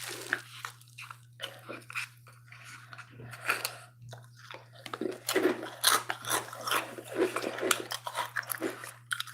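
Crunchy bites and chewing of Doritos with pineapple cream cheese, close and intimate, a series of irregular crisp crunches and wet mouth sounds over a steady low hum, with no talking.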